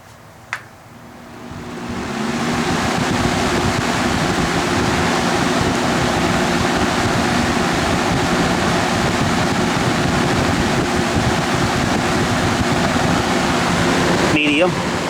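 A vintage Superlectric 20-inch three-speed box fan, model 2023B, somewhat rusty, switches on and spins up to high speed, settling into a steady, loud whooshing roar with a low motor hum that holds throughout.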